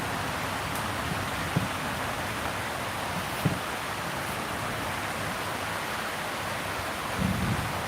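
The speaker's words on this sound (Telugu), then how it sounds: "కానీ కొద్దిగా ఇప్పుడు చినుకులు లోపల వరకు పడుతున్నాయి" Steady drizzle falls during monsoon weather, a faint, even hiss of rain with soft low rumbling like distant thunder and a few small taps, continuous with no voices.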